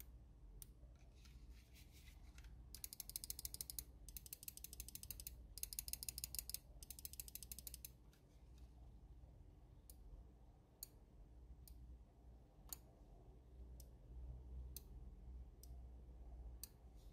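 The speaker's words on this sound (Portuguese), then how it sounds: "agora vamos testar aqui os cliques para vocês terem uma ideia de como eles são" Rapid, crisp clicking from a PWNAGE Ultra Custom wireless gaming mouse being tested, a dense run of fast clicks in the middle and then slower single clicks spaced apart, close and alone.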